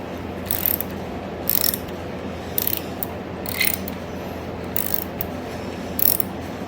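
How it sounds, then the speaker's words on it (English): A ratchet wrench works a bolt loose on a 1971 Yamaha RT1B 360 motorcycle under restoration, giving short bursts of rapid clicking that repeat about every second over a steady background hum, with no voices. "So we're gonna undo this bolt here, and then wiggle the rear brake off."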